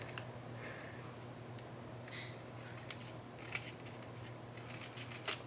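Scissors trimming the edges of a paper craft album page, with sparse faint snips and small paper rustles heard close up in a quiet room, with no talking.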